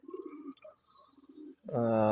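Pigeons on a house rooftop give soft, low coos for the first moments before a louder voice cuts in near the end.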